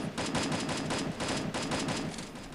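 Sustained bursts of automatic weapon fire in the shooter game Free Fire, rapid evenly spaced shots in two close runs broken by a brief gap, loud and near, with no talking.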